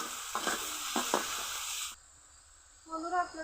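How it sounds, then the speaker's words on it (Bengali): Tomato and onion with salt sautéing in a pan, a bright sizzle with a few spatula strokes, then a pause and a quieter resumed frying with faint clatter. "টমেটো পেঁয়াজ নরম হওয়া পর্যন্ত কষিয়ে নিব"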